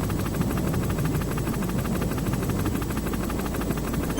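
Rotor thump from a hovering helicopter in Metal Gear Solid pulses evenly, loud and near, filling the moment with a constant mechanical beat.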